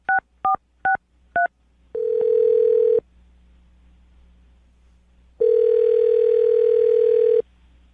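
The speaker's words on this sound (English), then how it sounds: "I'm going to dial the phone number right now" A landline phone is dialed with four quick keypad tones, then a long steady ringback tone, a pause, and a second long ringback tone, all loud and clear with no voices.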